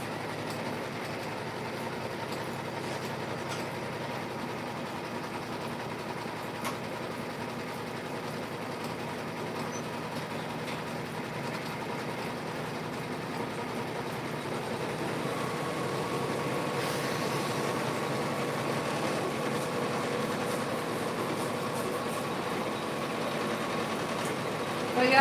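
An embroidery machine stitches in the hoop with a fast, steady mechanical whir and rattle that holds at a moderate level throughout the long stretch, with faint speech now and then.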